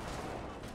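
Rapid gunfire in a Fortnite Battle Royale squads match, a dense burst of shots running through the whole moment at moderate loudness.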